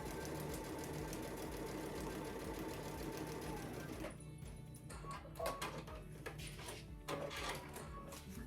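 A sewing machine stitches a quilt panel with a steady, fast mechanical whir for about four seconds, then stops and gives way to quieter handling clatter and faint voices, heard close.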